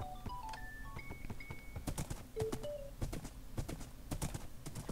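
Rhythmic horse hooves clip-clop at a steady trotting pace in Minecraft, crisp and close, mixed with short tonal game beeps and chimes; no one speaks.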